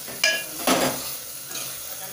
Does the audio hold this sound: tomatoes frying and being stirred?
yes